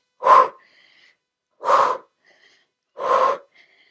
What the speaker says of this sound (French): Souffle, inspire, souffle, inspire.